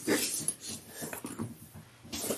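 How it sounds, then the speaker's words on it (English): A dog scratches at a door, making a close series of irregular, knock-like scrapes and thumps with brief pauses between them. Soft canine breathing is mixed in, and no one speaks. "I hear my dog scratching."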